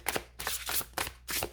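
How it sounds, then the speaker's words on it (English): Tarot cards shuffled by hand close to the microphone, heard as several quick riffling bursts in an uneven rhythm separated by brief pauses, with no talking. "These are very hard to shuffle."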